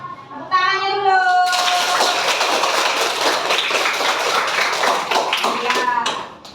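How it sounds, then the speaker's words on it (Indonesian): Children in a classroom break into clapping after a brief voice, a dense, lively burst of many small hands clapping that continues steadily for several seconds, fairly close and loud. "Tepuk tangannya dulu."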